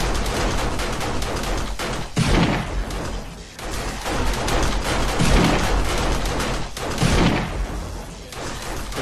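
Dense gunfire rings out in the zombie survival game 7 Days to Die, with rapid repeated shots and booms running almost continuously and loud throughout, with brief lulls between bursts.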